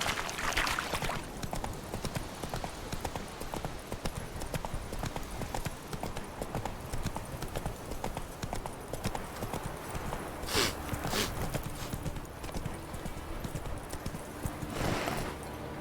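Horse hooves clip-clop steadily throughout a gameplay ride in The Witcher 3, a continuous rhythmic trot with a few brief brighter bursts and a faint whinny-like sound near the end.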